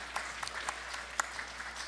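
A small church congregation clapping for a couple of seconds, scattered hand claps over a soft room background.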